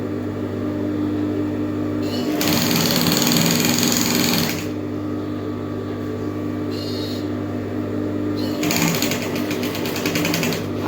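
Sewing machine stitching a straight three-quarter skirt, running in loud bursts of rapid mechanical clatter over a steady motor hum, stopping and restarting between stretches of sewing.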